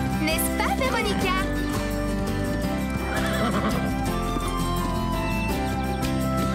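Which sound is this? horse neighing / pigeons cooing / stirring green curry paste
horse neighing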